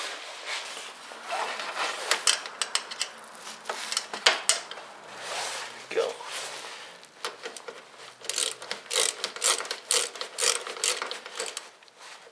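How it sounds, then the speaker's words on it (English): A wrench works a 10 millimeter nut on a snowmobile's idler bogie wheel, a close, continuous stretch of rapid metallic ratcheting clicks and clinks with uneven bursts throughout. "There's a 10 millimeter nut on the back too,"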